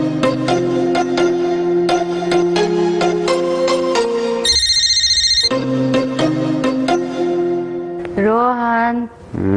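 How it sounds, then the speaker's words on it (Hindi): A telephone rings with a bright, repeating electronic tone over a steady musical ringtone background in a domestic sitcom scene, loud and close, with a short pause in the middle and brief voices near the end. "रोहन, फोन की घंटी बज रही है।"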